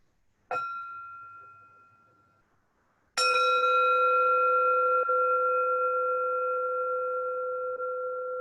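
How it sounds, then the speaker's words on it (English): A meditation bell is struck twice to close a group breathing circle, the first strike ringing out and decaying, the second a louder, sustained tone with long overtones that hums on unaccompanied. "and I will hand back to Rahina to complete the circle with her bell."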